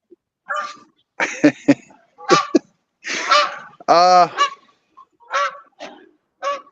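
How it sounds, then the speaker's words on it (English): Goose flying overhead, giving a run of loud, close honks in irregular bursts, some short and clipped, one longer and drawn out, with silence between calls. "Need that goose to stop honking."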